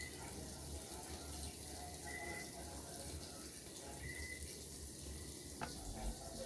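Tap water runs steadily during a handwashing demonstration, a continuous hiss of flowing water over a sink while hands are rinsed, with no talk over it.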